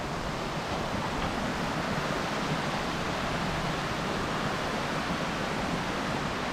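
Continuous broadband roar of Glencar Waterfall in Ireland, steady and loud with no breaks or voices.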